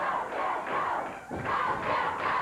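A Memphis wrestling arena crowd roars and chants in loud, surging waves during a match, the noise swelling, dipping briefly, then rising again, with no commentary audible over it.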